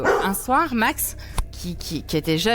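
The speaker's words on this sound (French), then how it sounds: "Il faut savoir que on entend aboyer." A dog barking in a home video played back in a house, a few sharp yips between someone talking, with a loud thump midway.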